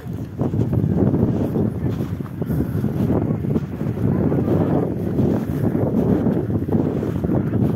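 Strong wind buffeting a microphone outdoors in Yakutsk during a winter ice-swimming event, a continuous loud rumbling roar with gusty surges throughout.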